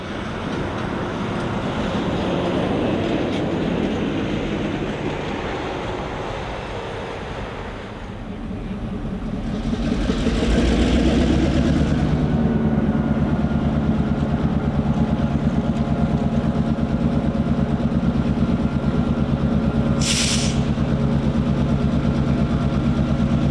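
A freight train's heavy engine rumbles and idles steadily on a new railroad, growing louder and deeper partway through, with a continuous low drone and a brief hiss near the end.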